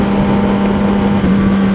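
Sport motorcycle slowing down on a Pittsburgh road, a loud steady engine drone with a sustained tonal hum and heavy wind rush, no talk.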